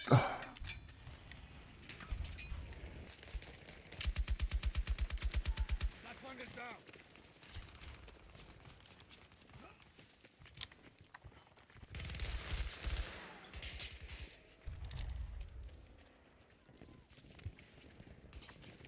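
Burst pistol firing in Battlefield 2042, a rapid rattling volley of several close, sharp shots, with other scattered gunfire and game noise around it.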